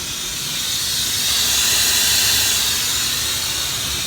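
Loud, steady hiss of dry nitrogen escaping from a leaking refrigerant manifold fitting spraying oil, a continuous high-pitched rush that swells slightly midway and holds without pause.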